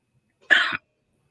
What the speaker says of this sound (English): just can't get rid of the damn cough